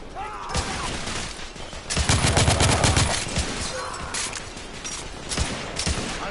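Rapid bursts of gunfire in The Order: 1886, a game set in 1886 London, loud and sustained, with a dense volley in the middle and scattered shots after.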